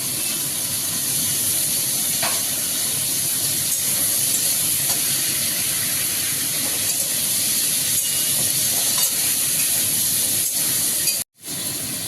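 Pumpkin, potato and long beans cooking in a pan give a steady, loud sizzling hiss that continues unbroken for the whole stretch and breaks off briefly near the end.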